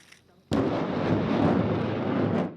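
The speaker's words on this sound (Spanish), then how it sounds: "Tras la primera prueba de disparo de este lanzacohetes estadounidense en mayo" A US rocket launcher fires: a sudden loud roaring blast kicks in and sustains as a harsh, broadband rushing roar for about two seconds, close and powerful.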